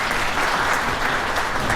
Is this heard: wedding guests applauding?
yes